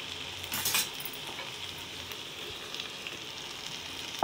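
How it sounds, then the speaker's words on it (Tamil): Tomatoes, green chillies, ginger, garlic and curry leaves sauté in a pan with a steady soft sizzle, a brief louder burst of stirring near the start and a faint clink at the end. "தக்காளி நல்லா வதங்கணும். அந்த இஞ்சி பூண்டு கருவேப்பிலை எல்லாமே வதங்கணும்."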